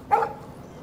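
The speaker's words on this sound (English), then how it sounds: "No barking." A single short dog bark from the video game Life is Strange, fairly close and clear, fading into a quiet background after a fraction of a second.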